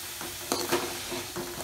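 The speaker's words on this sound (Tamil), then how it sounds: "இதை நல்லா வணக்கி விட்டுருங்க." Onion and ginger garlic paste sizzle in hot oil as they are stirred in a kadai, a soft steady frying hiss broken by a few short scraping stirs, close and fairly quiet, with no speech.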